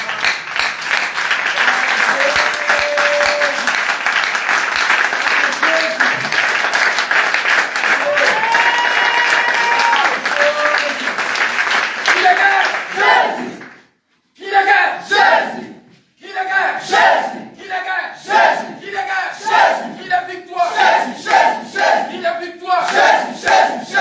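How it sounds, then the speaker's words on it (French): A church congregation in worship loudly acclaims the Lord with sustained applause, cheers and shouts, then breaks into bursts of rhythmic clapping and calls, with voices mixed in. "acclame encore puissamment le Seigneur"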